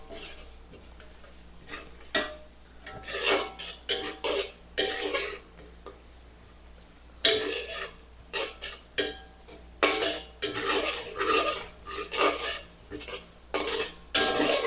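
Garlic and white onion stirred in cooking oil in a pan for pork rib kaldereta, a run of close scraping and clinking utensil strokes in irregular bursts over a faint low hum, with no talking.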